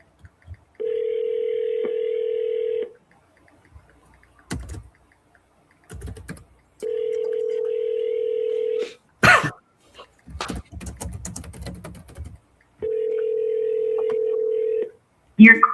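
Telephone call tones ring out in three long, evenly spaced steady beeps before voicemail picks up, with brief clicks, a cough and scattered handling noises in the gaps between them.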